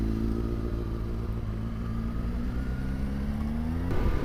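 A KTM 790 Adventure R motorcycle drones steadily while riding, its engine pitch slowly climbing under heavy wind noise, with a brief rough shift near the end.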